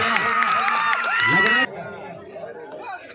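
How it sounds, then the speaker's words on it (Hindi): A crowd at a village kabaddi semi-final cheers and chatters loudly for about a second and a half. The noise then drops abruptly to a softer murmur, with a voice heard over the crowd throughout. "ताली बजाएं एक बार सब लोग आने पर जोरदार।"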